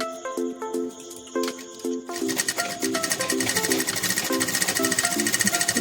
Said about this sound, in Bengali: আমি এখন সিঙ্গেল সেলাই দিয়ে দিচ্ছি